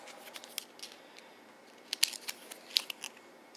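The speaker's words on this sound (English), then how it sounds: "And now we have to flip this card." Cards from the Mansions of Madness board game are handled on a table: quiet scattered snaps and crisp clicks, with one sharper flick standing out among the small close rustles.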